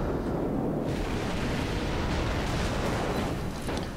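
Warship main guns in World of Warships, a Cleveland cruiser firing armor-piercing shells, booming in loud, dense successive blasts that blur into a continuous roar.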